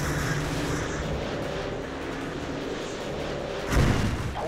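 Missiles launch in the Modern Warfare 2 game mode Sniper Fi, a sustained roaring rumble with deep booms that swells into a heavier blast near the end, with no talk.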